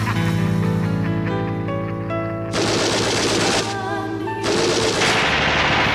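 The song opens with a sustained chord, then rapid bursts of loud gunfire cut in twice, like machine-gun volleys layered into the track.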